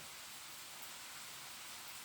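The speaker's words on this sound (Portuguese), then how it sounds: "nesta bela paisagem que nós temos ao fundo, numa manhã de chuva" Steady rain falling on a cool, rainy morning outdoors, a continuous even hiss with no breaks, soft and diffuse throughout.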